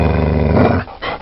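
A dog snarls in a continuous, loud, close growl for most of the moment, cutting off abruptly near the end, followed by a brief rougher rasp.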